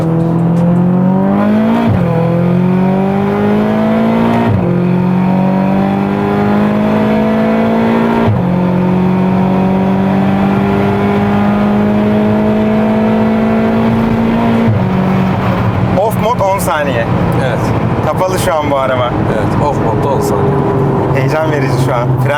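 A turbocharged Volkswagen Polo GTI 1.4 TSI engine, tuned past 500 horsepower, revs hard through several gears at two bar of boost, pitch climbing then dropping at each shift, loud and close, with rattling and whooshing toward the end.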